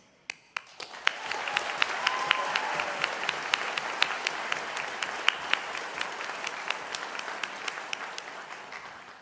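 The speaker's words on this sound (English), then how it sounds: "we've been applauding for you one at a time for a while" Sustained applause from a graduation audience at a Faculty of Health ceremony, a dense wash of many hands with a few sharp, louder claps standing out near the start, steady and fairly close for the whole stretch.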